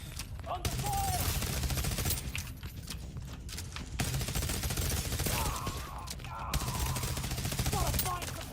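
Continuous heavy gunfire in The Division, an online shooter game, with rapid bursts and dense crackling throughout, voices shouting in between.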